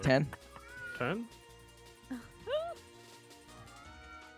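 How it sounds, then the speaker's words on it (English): A pet cat meows several times in short, clear calls close by, with people talking intermittently. "Nope, that's my cat."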